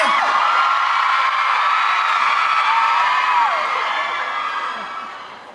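A loud crowd whoops, yells and cheers at a restaged concert, forming a sustained wall of high-pitched voices that eases off near the end.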